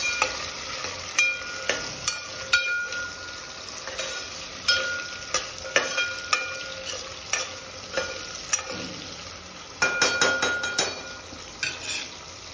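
Onion and large chillies fry in a pan for Khandeshi khichdi, a steady close sizzle broken by repeated scraping stirs and light clinks of a utensil against the pan, with no talking.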